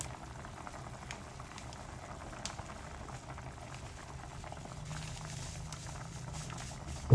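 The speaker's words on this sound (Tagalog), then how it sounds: "Ayan, kumukulo na." Soft, steady bubbling of sinigang soup with taro at a low simmer in a pot, a faint continuous patter with no voices.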